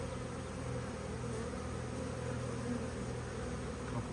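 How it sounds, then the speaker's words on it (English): A large honeybee swarm in a garden hums as a constant, dense drone of many wings, steady and moderately loud with no pauses. "This is a big swarm."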